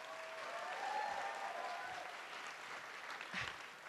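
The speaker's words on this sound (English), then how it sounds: "all these girls, give them a big, big clap" A crowd applauds steadily for several seconds, a dense wash of clapping hands with a brief swell near the end.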